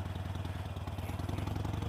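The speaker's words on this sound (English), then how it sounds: "they do have, you know, quite a rumble when they're idling." A Harley-Davidson Iron 883 engine idles with a low, steady pulsing rumble, fairly quiet, with a fast regular throb and no voices.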